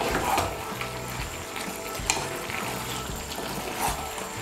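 Vegetables sizzle and fry in a pan for a Bengali pui shak chorchuri with fish head, cooking in their own water, while a spoon stirs and scrapes them in repeated soft strokes, close up with no talk.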